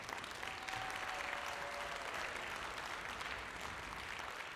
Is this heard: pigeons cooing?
no